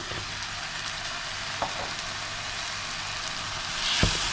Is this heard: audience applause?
no